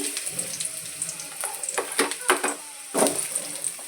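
Sliced onion sizzles in hot oil in a pan while a stuffed brinjal masala is cooked, giving a steady frying hiss with several louder bursts, like stirring, close by.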